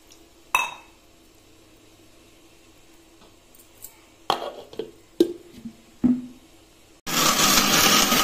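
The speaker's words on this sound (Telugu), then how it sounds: "కొంచెం వాటర్ వేసుకుందాము." Water is poured into tamarind in a kitchen, arriving as a loud, steady rush near the end after several sharp clinks of utensils against a vessel.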